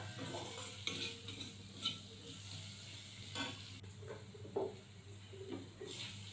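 Diced potatoes frying in oil with a constant sizzle, close and fairly quiet, while a spatula scrapes and stirs the pan in occasional strokes.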